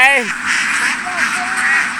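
Ducks quack in a quick, nasal burst up close, over a steady hiss of background noise and a faint voice.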